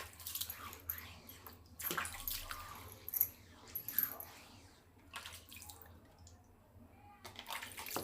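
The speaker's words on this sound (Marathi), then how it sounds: "आपण पहिल्यांदा पाण्याने स्वच्छ धुवून घेऊया" Water splashes and runs over a new stone grinding slab and roller as they are rinsed clean, in irregular nearby bursts of washing over a low steady hum.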